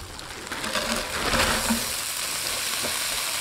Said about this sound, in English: We're going to go ahead and throw in our onions.